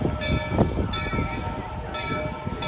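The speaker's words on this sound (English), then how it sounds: "There goes the train." A monorail train at Walt Disney World rumbles past close by, with a steady mechanical drone and high tonal whine, loud and continuous.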